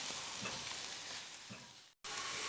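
Chopped onions sizzle steadily in melted butter in a pan, a close, dense hiss with faint stirring, cut off briefly near the end.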